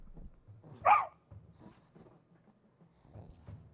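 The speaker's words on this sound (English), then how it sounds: "My puppy's being very extra." A puppy gives one sharp, loud bark near the start, with faint scuffling and low background noise continuing around it.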